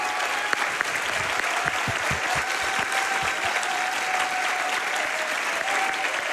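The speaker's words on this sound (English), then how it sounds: "First off, round of applause for Sumi." Sustained audience applause and cheering from a large crowd at a live speedrunning charity event, dense steady clapping filling the room throughout with no talk over it.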